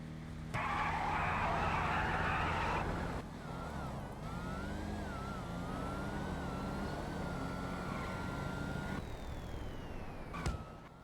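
Engine roar and tire screech from a drag racing car doing a burnout launch in GTA, loud at first, then a long revving whine with changing pitch that continues until the end.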